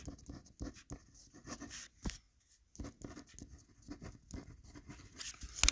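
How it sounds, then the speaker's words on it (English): A pen scratching and tapping across paper as notes are jotted down, a quiet patter of short strokes with brief pauses, close by and fairly soft. "let me write this down"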